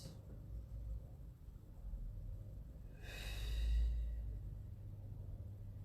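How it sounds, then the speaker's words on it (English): One soft breath is drawn and released during a Pilates session, faint and fairly close over a low background hum. "Inhale to release. Exhale to tighten."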